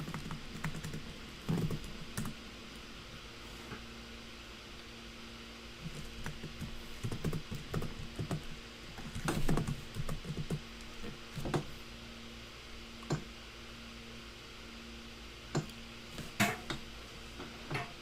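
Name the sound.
typing C++ code on a computer keyboard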